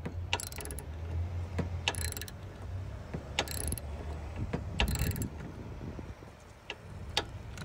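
A ratchet wrench tightens a battery terminal on a Honda Fit, with several short bursts of rapid clicking separated by pauses, close and clear with no talking.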